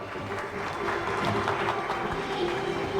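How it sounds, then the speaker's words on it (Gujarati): A crowd clapping at a Gujarati wedding ceremony during the joining of the couple's hands, steady applause spread over the whole stretch with music and murmuring underneath. "આપો તાળી પાડો બધા."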